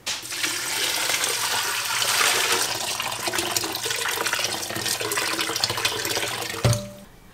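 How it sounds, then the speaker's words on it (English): Water gushes continuously into a pot as eight cups are poured in, a loud, steady splashing rush that ends abruptly with a short clunk. "I am going to be adding 8 cups of water in here."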